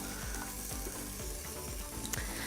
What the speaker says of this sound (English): we're just gonna cook up the steak now